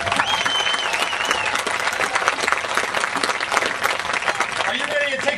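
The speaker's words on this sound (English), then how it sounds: "Let's give Tom Del Beccaro a big round of applause" A crowd at a political rally applauds for Tom Del Beccaro, loud, dense clapping with cheering and whistles mixed in, sustained at full strength throughout.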